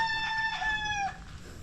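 A Rhode Island rooster crows once in a clear, drawn-out call that fades at the end, with faint background farmyard noise and no talking.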